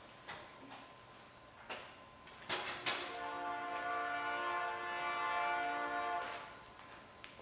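A train passes near a truck workshop with its horn sounding. A few sharp ticks and knocks come first, then a steady, moderately loud horn chord holds for several seconds, with no talking.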